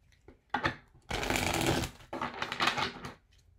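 Tarot cards being shuffled close by: a few short riffles, then two longer rapid bursts of flicking cards, with no talk.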